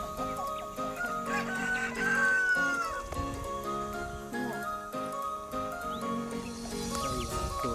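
Chickens cluck and a rooster crows nearby at an agrotechnology park in Cameron Highlands, Malaysia, mixed with other animal calls and a steady background tone.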